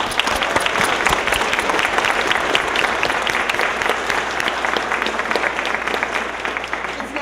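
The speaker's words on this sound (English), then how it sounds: "Can we give all of these kids a round of applause?" A large audience at a press conference claps loudly and continuously, a dense, steady roar of applause that holds for several seconds.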